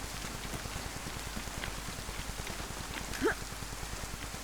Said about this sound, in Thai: โอ้ยเฮียฝนตกหนักเกิน